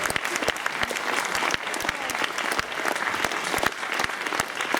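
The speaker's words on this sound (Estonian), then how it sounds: "Aplaus" An audience at a contest award announcement for an Instagram competition at a stage event applauds continuously, a dense, lively clatter of many hands with sharp individual claps throughout.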